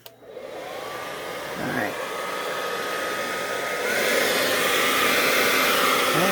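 Leaf blower blasting air and flying paint debris outdoors, a loud steady roar that starts abruptly and swells louder partway through, with one brief word spoken at the start.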